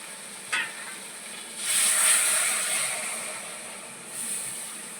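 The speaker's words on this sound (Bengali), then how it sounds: "এবার আমি পনিরের যে জলটা সেই জলটা অ্যাড করে দিলাম" Water drained from paneer hits a hot pan of butter paneer, bursting into a loud hiss that swells, then fades into a softer, steady sizzle, preceded by a brief stirring clink.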